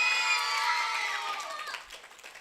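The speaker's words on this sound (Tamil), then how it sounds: "இப்படி எல்லாம் கைதட்டுங்க." Children clap and cheer together at a church holiday Bible school event; a bright burst of crowd applause with raised voices fades over about two seconds.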